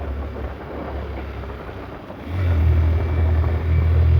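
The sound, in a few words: Yamaha Fazer motorbike riding on mountain road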